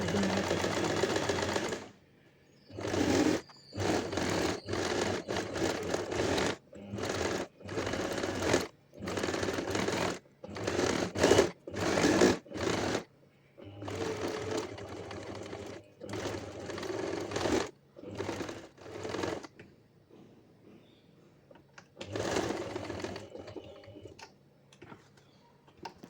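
A sewing machine stitches interfacing onto a shawl collar coat in rapid rhythmic bursts that stop and restart repeatedly, close and clear, with quiet gaps between runs.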